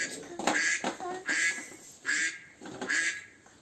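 Four rough, nasal duck-like quacks spaced about a second apart, fairly close and clear with no other sounds around them.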